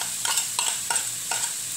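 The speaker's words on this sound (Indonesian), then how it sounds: "Masuk kol, kita tumis." Cabbage and chili stir-fried in a pan, with four rhythmic scraping stirs over a steady close sizzle of frying.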